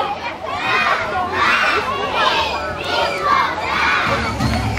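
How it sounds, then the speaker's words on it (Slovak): A large group of children shouts together in unison, loud and close, in repeated swelling bursts at an outdoor summer event in Velký Meder. "Ešte si zakričíme na nášho Miška"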